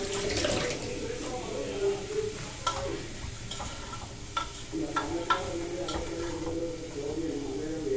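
Onions sautéing lightly in a pan give a soft, continuous sizzle broken by a handful of sharp utensil scrapes and taps while stirring, with a low voice murmuring now and then over the cooking.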